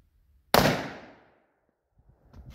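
A single loud shotgun blast from a Rossi S12 riot gun at an outdoor range, with a sharp crack and a long decaying echo, then faint shuffling afterward.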